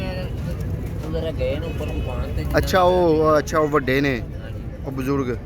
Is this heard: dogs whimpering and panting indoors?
no